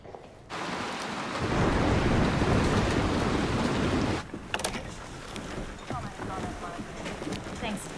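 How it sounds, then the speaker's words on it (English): A heavy thunderstorm with steady rain and thunder, broadband roar building loud through the middle, then cutting to quieter rain with scattered sharp drips and crackles; voices may murmur faintly. "They've just upgraded the storm."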